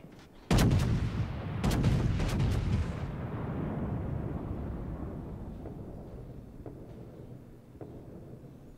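Heavy naval guns of the Scharnhorst battleship fire in World of Warships: a loud deep salvo boom at the start, then several more sharp reports in quick succession, their rumble trailing off into a long fading roar.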